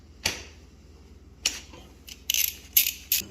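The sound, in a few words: ratchet with 10mm socket removing sprocket nuts, Honda CT125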